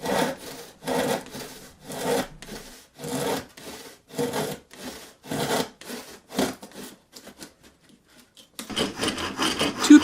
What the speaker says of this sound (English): the easiest way to do that with a handsaw is draw a line and saw down